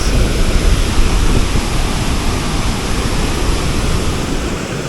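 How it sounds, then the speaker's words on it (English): A powerful waterfall in Baños, Ecuador pours in a loud, steady roar of broadband rushing water that fills the whole stretch without pause, close and unbroken, with no voices over it. "You can see the waterfall from here, how big it is."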